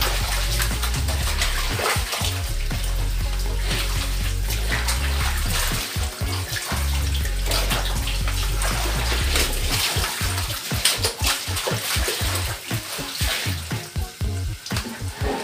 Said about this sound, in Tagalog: kailangan mo pa siyang banlawan